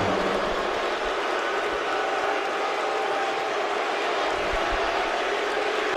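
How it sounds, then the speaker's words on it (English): A loud wrestling crowd roars steadily throughout an indoor wrestling show, a dense wash of cheering and shouting with no pauses. "the crowd are so loud"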